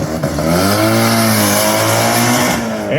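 A Mitsubishi race car at an autocross event: a loud, close engine revs hard and holds a high, buzzing pitch that dips and climbs through gear changes and shifts in throttle, with a brief tire squeal.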